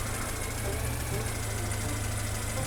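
A vehicle engine idles steadily while parking in Farming Simulator 22, a continuous low rumble with broadband noise that runs throughout the short stretch without gaps.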